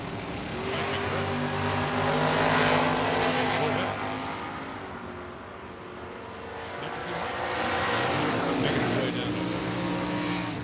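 A second-generation Camaro makes a drag run at Tucson Dragway, its loud engine roaring and swelling with a steady low drone that eases and then builds again, while a commentator talks over it.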